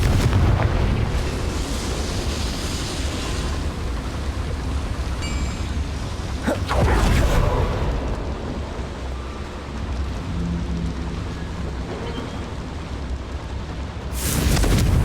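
A Confringo explosive spell goes off in Hogwarts Legacy on Nintendo Switch: a loud, broad rumbling blast bursts out midway, with another sharp burst near the end, over a constant wash of game ambience.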